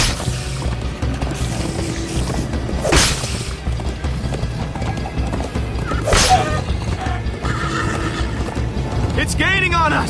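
A horse in Minecraft: Story Mode whinnies a couple of times over steady galloping hoofbeats and mechanical game noise, with a busy, loud mix throughout.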